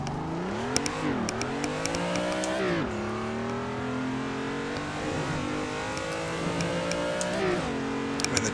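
A drifting car in Assetto Corsa, engine revving and bouncing through gear changes with rising and falling pitch, tires squealing under load, close and steady with no talk.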